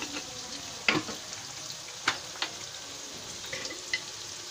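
Chicken curry sizzles in a frying pan while being stirred, a steady soft hiss broken by several scraping utensil strokes at irregular intervals, fairly faint and with no talking.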